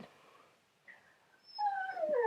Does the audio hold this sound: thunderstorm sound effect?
no